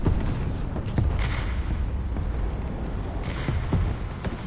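Tank guns fire in War Thunder, with deep booms and sharp cracks repeating over several seconds above a constant rumble of battle.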